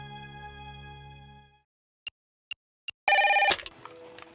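A telephone rings with a sustained electronic tone, then a few short beeps follow, ending in a brief burst of louder ringing.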